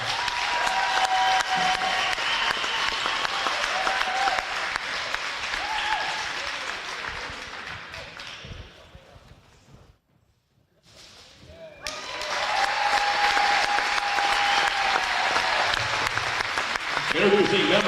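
Crowd applause fills a high school basketball gym during a banner unveiling, loud and sustained, fading briefly to near silence midway before swelling back, with cheering voices mixed in.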